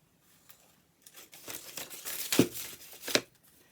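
Scissors cutting a shape from a sheet of fake grass, heard as a short run of close crinkly, rasping snips building after a quiet start, with no talking.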